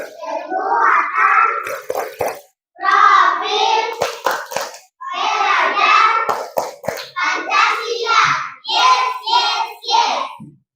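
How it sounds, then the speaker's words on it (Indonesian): A school class performing the rhythmic Pancasila profile clap, children chanting together in bursts with sharp clustered hand claps punctuating the chant, close and loud. "Kita tepuk profil Pancasila 1 kali."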